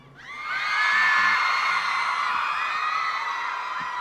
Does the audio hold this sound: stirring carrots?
no